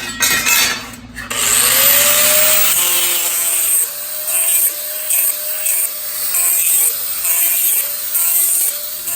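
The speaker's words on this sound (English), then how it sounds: "So, give it a quick sand." Power sander working over a steel A-pillar part for an off-road roll cage, a steady loud abrasive whir with a brief break near the start, continuing alone without talk.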